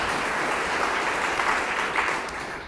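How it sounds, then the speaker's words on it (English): A crowd at the 2009 Writers of the Future awards ceremony claps steadily in a sustained burst of applause, dense and even throughout. "let's give ourselves a round of applause"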